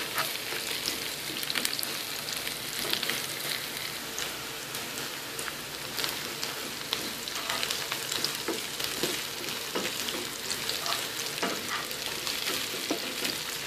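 Onions frying in oil until brown for an eggplant and potato curry with dried loitta fish, giving a dense, steady sizzle and crackle close up with occasional stirring scrapes throughout.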